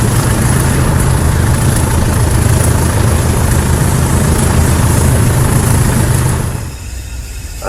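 Class 20 diesel locomotives working hard up a steep gradient, a loud, steady throbbing engine roar with a whining top note that holds for several seconds before easing off near the end.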